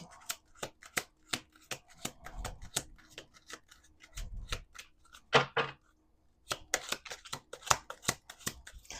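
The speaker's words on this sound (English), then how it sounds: "We're going to do 2 more shuffles." Repeated crisp riffling and tapping of tarot cards being shuffled, close up, in quick bursts with a couple of longer riffles and short pauses.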